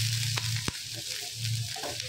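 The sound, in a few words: onions frying in a pan for samosa chaat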